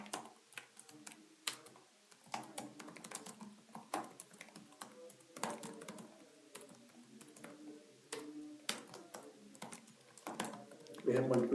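Computer keyboard typing while code is written, a steady patter of light, irregular key clicks with short bursts and pauses, heard close and fairly faint alongside occasional talk.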